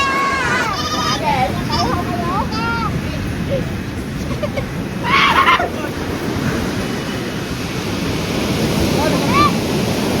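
Ocean waves wash up a beach at high tide in a continuous broad rumble and wash, with wind buffeting the microphone, as people talk and birds chirp faintly over it.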